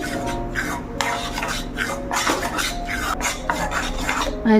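Flour roasting in ghee in a pan for sukhadi is stirred continuously, giving a close, steady scraping and rubbing of spoon against metal with rhythmic strokes throughout.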